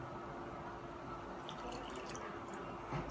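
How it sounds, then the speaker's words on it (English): Water and milk poured from a container into a well in a bowl of flour for homemade bread, giving a steady, close liquid trickle and drip over a continuous low background, with no talking. "we add our water. This is our water and milk."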